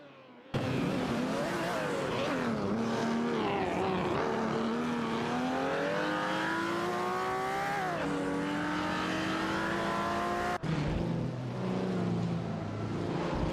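Video game race cars including a Dodge Charger Super B roar continuously, engines revving up and down through gear changes with a brief break near the end, loud and close with no talking.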